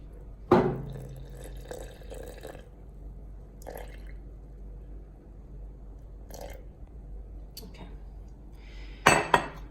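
Water poured into a sourdough starter jar on a kitchen counter: a faint, soft trickle with a few sharp clinks of glass and utensils at the start and end, heard close.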